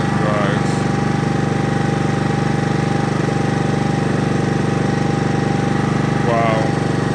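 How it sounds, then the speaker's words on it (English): A new Honda lawn mower engine runs steadily after its first start, a loud, close, even chugging drone that holds throughout, with brief voices faintly audible under it. "that was the first start of my new lawnmower"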